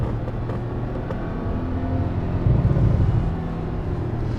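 A Porsche 911 Turbo engine pulls hard under acceleration, a loud, continuous low rumble heard from inside the car that swells briefly midway.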